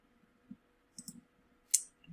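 Soft computer mouse clicks, a handful of quiet, sharp taps scattered over a couple of seconds, with one brighter click near the end, in an otherwise quiet room.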